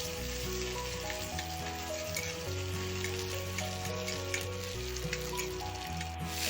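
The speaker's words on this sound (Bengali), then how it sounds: "গোটা লঙ্কাটা দিয়ে দিল, রসুন কুচিও দিয়ে দিল, আদা থেতোটাও দিয়ে দিল" Whole dried chillies, chopped garlic and crushed ginger fry in hot oil, a steady close sizzle throughout with music playing over it and no talk.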